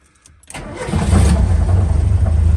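A Lada engine cranks briefly and catches, then settles into a loud, steady running rumble close by.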